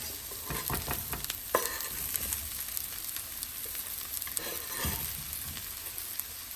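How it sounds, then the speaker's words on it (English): Chopped eggplant sautés in a pan with a steady, close sizzle, broken by a few scraping stirs. No one speaks. "I'm going to saute this a bit till it softens."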